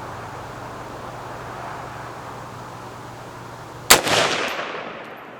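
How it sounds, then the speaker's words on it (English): A Delta Team Tactical AR-build rifle fires a single sharp, loud shot at a shooting range, with a short echoing tail after several seconds of steady background hum. "Let's go to the right top target and shoot 2 5-shot groups"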